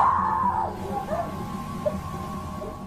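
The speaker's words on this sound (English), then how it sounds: "Her screams even push the onlookers away." Woman screaming loudly in a public place, a piercing high shriek that breaks off, followed by lower strained wailing and cries amid crowd noise.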